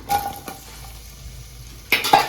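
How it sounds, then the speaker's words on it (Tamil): A soft, steady sizzle of chopped onions frying in hot oil for chicken biryani, with a few stirring clatters near the start and a louder burst of sizzling and scraping at the end. "நம்ம நறுக்கி வச்சிருக்க வெங்காயம் போட்டு சேர்த்துக்கலாம்"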